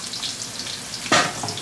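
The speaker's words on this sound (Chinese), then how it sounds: "放那个干辣椒" Dried chili peppers dropped into hot oil and a little lard with ginger and garlic in a wok: a steady low sizzle, then a sudden loud burst of crackling frying near the end.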